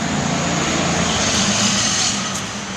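A 2004 Yamaha Road Star 1700 motorcycle with Long Shot aftermarket exhaust idles and runs close by, a steady loud broadband engine roar with a low rumble that eases slightly near the end.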